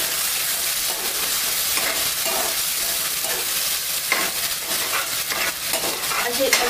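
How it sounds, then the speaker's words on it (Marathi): A ginger, garlic, coriander and coconut paste fries and sizzles loudly in a pan while being stirred, a dense continuous crackle with faint scraping throughout, close and unaccompanied by speech. "त्यानंतर मी यामध्ये आलं, लसूण, कोथिंबीर आणि खोबऱ्याची पेस्ट टाकते। ही सुद्धा आपण छान अशी परतून घेणार आहोत।"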